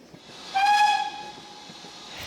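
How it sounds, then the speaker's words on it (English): A steam locomotive at the Bluebell Railway in Sussex lets out a loud, sharp hiss with a high whistle-like tone that swells quickly, then fades into softer steam noise. "steam trains weren't museum pieces as they are here at the Bluebell Railway in Sussex"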